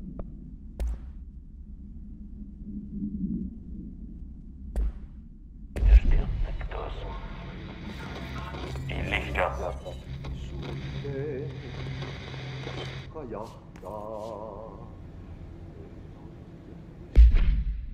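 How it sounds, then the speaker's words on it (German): A big explosion in the video game Control bursts in suddenly and loudly, followed by a long rumbling, crackling aftermath. Game ambience sits before and after it, with another sharp impact near the end. "Explosion."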